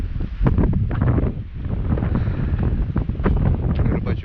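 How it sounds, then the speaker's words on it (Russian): Strong, gusty wind buffets the microphone out on spring lake ice during an ice-fishing trip, a loud continuous roar that swells and dips with the gusts, with no voices heard. "ветер поднялся просто ураганный"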